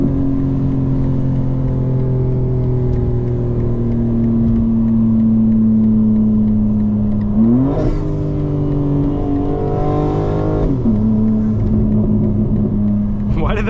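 A loud engine of a modified 2025 BMW M4 Competition xDrive drones steadily, then revs and rises in pitch as the car accelerates at a drag race, with a second surge near the end.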